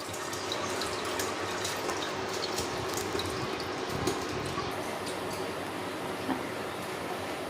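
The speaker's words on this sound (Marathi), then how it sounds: "पाणी टाकलं, धुवून काढायचं." Water is poured and sloshed over homemade butter to wash it, a steady close splashing and running-water wash that continues without pause throughout.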